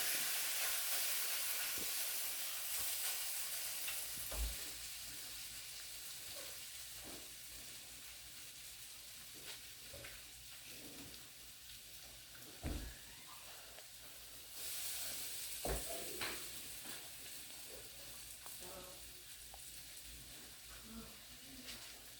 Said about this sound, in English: Now let's go ahead and get these hash browns going.